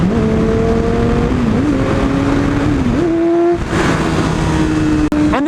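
Yamaha R6 sport motorcycle engine held at a high, strained rev that wavers and climbs through a harsh downshift, loud and close, ending in a sharp mechanical snap.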